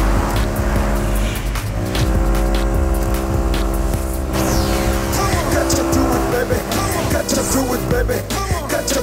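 A car driven recklessly, its tires screeching and skidding loudly while the engine revs, all over continuous music playing throughout.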